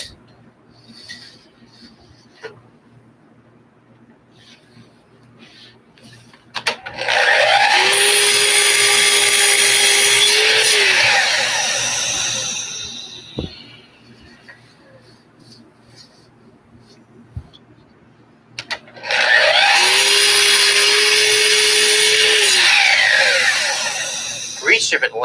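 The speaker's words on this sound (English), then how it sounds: "I use a stop on my miter saw." A miter saw makes two repetitive cuts in wood against a stop, each one a loud whining spin-up and bite through the board lasting several seconds, separated by a quiet pause.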